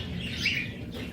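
Pet budgerigars give a short burst of high chirping over a low indoor background hum.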